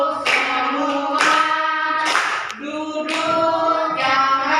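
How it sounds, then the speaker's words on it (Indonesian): A primary school class of fifth graders claps hands together in rhythmic bursts during a classroom activity, loud and close, mixed with children's sing-song chanting voices. "tepuk jari 3, tepuk jari 4, tepuk jari 5. Bertepuk semua"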